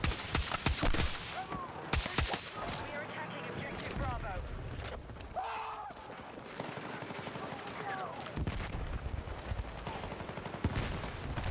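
Gunfire in the video game Battlefield 6, with dense automatic bursts and scattered distant shots through a busy battle soundscape, partly under a person talking.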